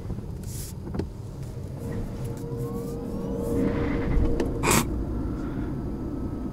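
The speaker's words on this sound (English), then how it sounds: "This battery electric sound. Sounds really out of this world." A 2019 BMW i8 plug-in hybrid with an 11.6 kWh battery drives on electric power only, giving a faint, smooth electric whine and low rolling road hum, with a few brief clicks and a gliding tone rising and fading.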